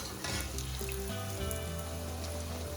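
Bhature deep-frying in hot oil make a fairly quiet, continuous bubbling sizzle with a soft crackle, steady throughout and heard on its own without speech.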